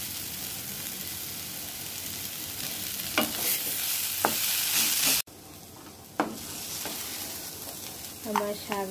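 Fourteen kinds of leafy greens with crushed fried bori are stir-fried in a pan, giving a continuous sizzle and hiss broken by a sudden drop, then spatula scrapes and clinks.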